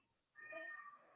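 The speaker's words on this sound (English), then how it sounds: "Oh, kitty cat." A house cat gives one clear, faint meow, a single drawn-out call in a quiet room.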